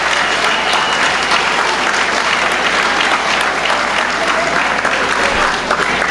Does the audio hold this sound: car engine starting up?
no